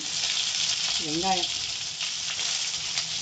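Curry leaves and green chillies crackle in hot oil with a loud, continuous hiss that stays close and even. A brief wavering voiced tone rises over it for a moment.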